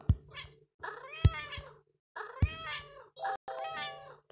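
Game cat from Cat Evolutions meowing in a series of clear, close, tonal cries with short gaps between them, no talk over the calls.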